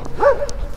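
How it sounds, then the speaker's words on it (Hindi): A dog on a street in an Istanbul factory district gives a single short yelping bark, close and fairly loud over low background rumble. "बैक पे मेरे कुत्ते देख रहे हो यार आप, ये देख रहे हो भौंकना शुरू हो गया मुझे देख के।"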